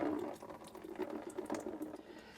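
Water gurgling and trickling out of a disconnected pipe beneath an Insinkerator Badger 5 garbage disposal, a close, quiet splashing and dribbling flow that fluctuates irregularly.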